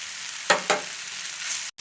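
Masala fries in a pan for Bombay chutney, an even close sizzle with two quick scraping stirs early on, no talking, and a brief cut near the end.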